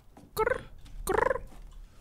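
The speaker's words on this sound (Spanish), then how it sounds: "Sonido de gallina." Chickens cluck in the Resident Evil Village video game, two short clucking calls heard fairly close and clear with no talking over them.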